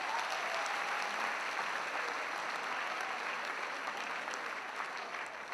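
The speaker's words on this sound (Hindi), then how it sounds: "एक बार जोरदार तालियां बजाकर।" Audience applause at a Hindi comedy show, a dense, sustained burst of many hands clapping that holds steady throughout and tapers slightly at the end, with no speech over it.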